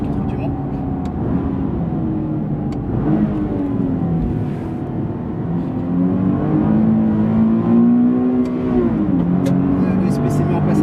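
Nissan 370Z GT4 race car accelerating at Le Mans after the Mulsanne chicane, its engine note rising and falling steadily throughout under continuous commentary.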